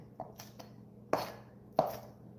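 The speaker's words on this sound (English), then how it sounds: "I'm just chopping up my green onions" Green onions chopped with a knife on a cutting board for homemade chicken chili: a few quiet, sparse thuds, two sharper strikes near the end, close and alone with no talking.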